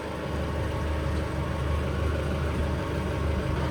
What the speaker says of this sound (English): I'm going to try and arc across this relay to get the starboard engine going